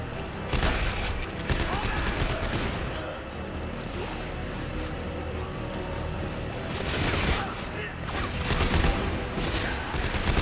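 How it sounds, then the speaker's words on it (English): Rapid machine pistol gunfire in the sci-fi shooter Dead Space 3, dense bursts and crashes across the whole stretch, loudest near the start and again toward the end, with a voice talking over the fighting. "Oh, it's a machine pistol."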